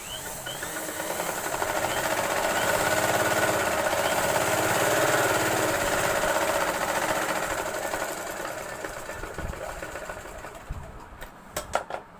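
A sewing machine stitching a boat neck blouse runs in a steady, moderately quiet whir for about ten seconds, then slows and stops with a few small mechanical clicks at the end.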